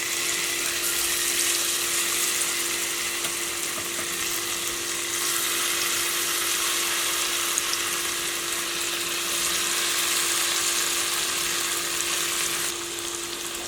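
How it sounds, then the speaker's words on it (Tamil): Marinated paneer pieces fry gently in hot coconut oil, giving a steady, dense sizzling hiss that holds at an even level throughout with no talking. "எண்ணெய் சூடானதுமே நம்ம மேரினேட் பண்ண அந்த பன்னீரை போட்டு ஜென்டிலாக ஃப்ரை பண்ணி எடுத்துக்கலாம்."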